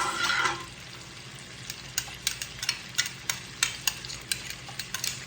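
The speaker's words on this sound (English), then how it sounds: "what I want to do is add my onions to this." Onions hitting a hot pan give a loud burst of sizzle, then settle into a quieter frying hiss broken by regular spatula taps and stirring scrapes, heard up close without speech.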